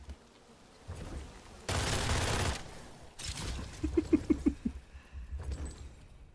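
Gunfire from a gun in the video game Witchfire: a sustained loud burst of shots, then a shorter follow-up blast, with a brief faint vocal sound and scattered clatter afterward.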